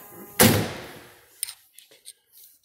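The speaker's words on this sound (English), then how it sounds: "Door shuts nice." A 1973 Oldsmobile 98 door shuts with a single solid thump, followed by a few faint clicks and light handling noises.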